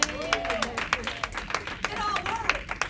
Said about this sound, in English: Come on, you ought to clap it.